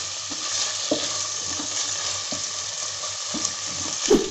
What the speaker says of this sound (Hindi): 2 मिनट के लिए तकरीबन इसको हम इसी तरह से फ्राई करेंगे। अच्छी तरह से इसको हम भून लेंगे।